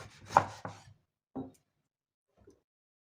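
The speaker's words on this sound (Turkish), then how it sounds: "Bu şekilde bir adet de limonumuz vardı. Onu da keselim şöyle ortadan." A knife slices a lemon in half on a board, giving a few soft, quiet thuds spaced apart and then fading to near silence.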